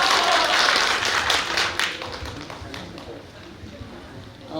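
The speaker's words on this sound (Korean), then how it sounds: "박수 한번 부탁드리고요" An audience at a residents' briefing on a redevelopment project in Galwol-dong, Seoul, applauds steadily, dense clapping that gradually thins and fades toward the end.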